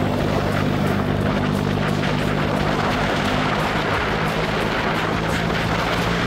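A Honda BeAT scooter engine fitted with a v3 power pipe exhaust drones steadily at half throttle, loud and close, with a constant buzzing tone throughout.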